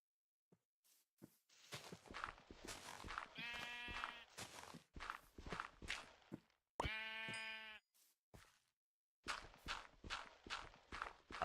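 Minecraft sheep bleat in short wavering cries, two of them long and clear, amid a steady patter of blocky footsteps and clip-clop steps; no talking.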